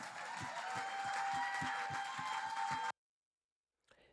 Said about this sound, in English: please, a big round of applause for the legendary Wendy Williams